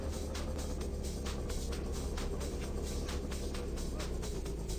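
In the video game My Winter Car, a car engine idles in a steady, moderately quiet purr with an even rhythmic pulse throughout and no talking.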